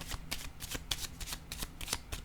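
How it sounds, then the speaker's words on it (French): Cards handled and set down on a table, a run of quick papery slaps and shuffles close by, several distinct taps spread over a couple of seconds with no talking. "je vais déposer une carte sur l'étoile à l'envers"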